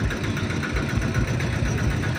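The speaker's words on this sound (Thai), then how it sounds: "เครื่องเป็นเครื่องยนต์นะครับเป็นอีซูซู88 นะครับ" An Isuzu diesel engine on a farm tractor idling steadily close by, a continuous low rumbling chug with a faint rattling knock, no voices.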